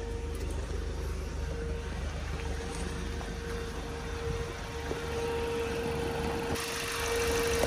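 A Mopar SRT car engine idling steadily, a close, continuous low rumble with a constant tone and no talking, rising slightly in loudness near the end.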